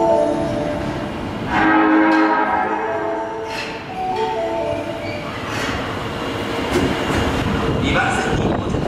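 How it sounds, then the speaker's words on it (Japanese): An out-of-service train arrives at a platform on Osaka's Sennichimae Line subway at Minami-Tatsumi station, with loud rumbling, squealing wheels and rail clatter under station announcements. "2番線に回送車が参ります。"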